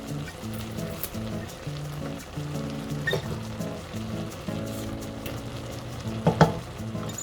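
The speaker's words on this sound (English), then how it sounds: "Here goes in the garlic." Garlic sizzles in a hot pan while Mexican pork guisado in salsa cooks, a steady frying crackle under a repeating tonal pattern of background music, with a few brief clinks near the end.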